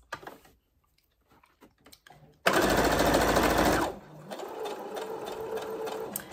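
A sewing machine stitches fabric scraps in one fast, loud, continuous run of about a second and a half, then drops to a quieter, slower rhythmic ticking, with faint handling noises before it starts.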